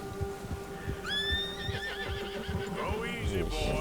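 A horse in Red Dead Redemption 2 neighs loudly after being frightened by a bear, a rising, shaky whinny followed by snorting and hoof movement, with game music and a voice underneath.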